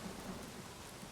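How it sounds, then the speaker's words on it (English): Steady rain hisses with a low rumble of thunder underneath in the video game Days Gone, a dense continuous wash of falling water with no voices. "And now it's raining. And there's thunder."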